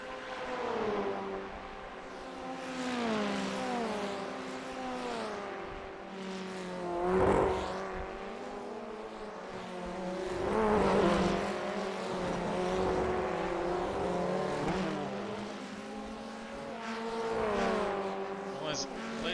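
Formula Ford race cars in the iRacing sim at Sandown, whining engines rising and falling as they pass, with race commentary talking over them.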